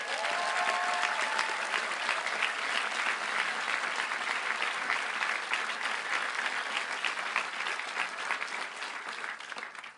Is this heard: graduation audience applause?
yes